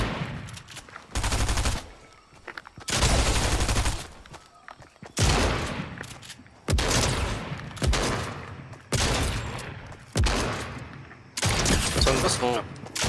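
Repeated bursts of video-game gunfire crack out in loud volleys, about seven clusters with brief gaps, voices talking faintly between shots.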